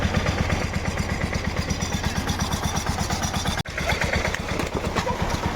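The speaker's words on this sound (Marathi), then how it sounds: "इथं ट्रॅक्टर चाललाय" A tractor engine chugs in a rice field during traditional rice planting, with a rapid, even pulsing beat at moderate distance that breaks off briefly and then resumes.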